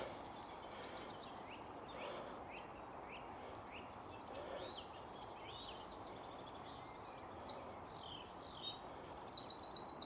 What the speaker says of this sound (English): They always fly away just as you spot them. All the pretty birds.